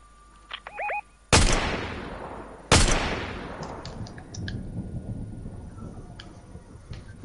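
Gunfire in the Fortnite video game: two sharp, loud shots ring out a second apart, each trailing off in a long echoing decay, with a few faint clicks and small tones around them and no talk.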